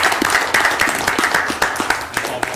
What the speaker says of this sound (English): So I'd like to give her and the police department a round of applause